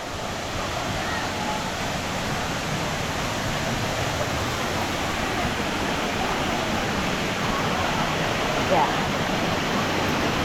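Balagbag Falls pours as a loud, continuous broadband rush of falling water, steady and close for the whole stretch, with a brief faint voice near the end.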